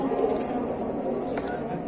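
A golden racing pigeon coos in soft, low, repeated murmurs close by, while people talk over it.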